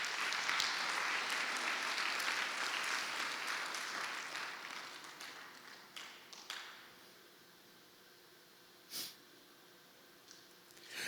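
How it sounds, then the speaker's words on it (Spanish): Church congregation applauds during a Friday prayer service, a broad roll of clapping that gradually tapers off over several seconds, leaving a quiet room with a few scattered taps and sniffs. "Vamos a darle un aplauso al Señor."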